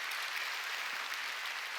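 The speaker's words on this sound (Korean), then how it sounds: "깨달아서 박수 치라니까" A church congregation at a Sunday worship service breaks into applause, a dense, even wash of many hands clapping that holds steady at a moderate level.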